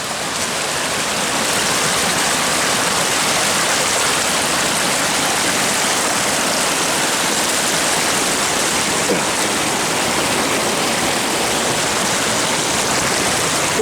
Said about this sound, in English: the water will just rush up your legs